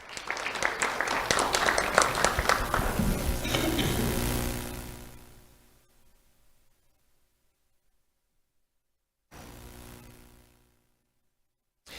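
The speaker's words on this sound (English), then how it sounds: "Let's have a round of applause for UCL Hernandez Corcho." An audience applauding at a sheriff's office awards ceremony, loud sustained clapping that fades out after about five seconds, followed by silence and a brief burst of background noise.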